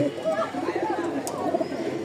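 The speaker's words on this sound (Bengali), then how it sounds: "ককা ডাকতেছে কি ডাক রে ভাই" A Bashiraj kokka pigeon coos in a low, rolling call among other pigeons, close by, with someone talking over it.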